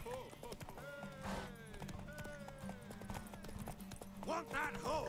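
A horse canters in The Witcher 3, its hooves clip-clopping in a steady rhythm throughout, mixed with game sounds, and someone talks over it.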